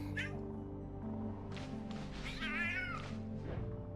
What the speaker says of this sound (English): Where is the cat that I'm hearing?